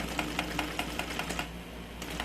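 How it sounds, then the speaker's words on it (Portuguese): A sewing machine stitches slowly along the inner seam of a bag, giving a faint, quick run of even ticking needle strokes over a low steady hum before it pauses. "E aí vai costurando aqui por dentro, ó, devagar"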